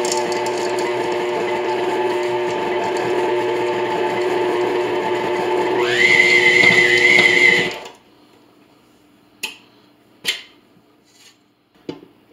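An electric mixer on low speed churns cookie dough with dried cranberries and white chocolate, giving a steady motor whir whose pitch rises near the end before it cuts off. A few light clinks of the bowl follow in near silence.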